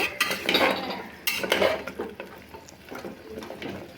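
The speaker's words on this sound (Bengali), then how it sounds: "ধুনের পাতা কুচি ধুনের পাতা দিয়ে আর একবার নাড়াচাড়া করে নেব" A spoon scrapes and knocks through goat trotter curry in a pot as chopped coriander leaves are stirred in, making a few clinking, scraping strokes close by with no talking.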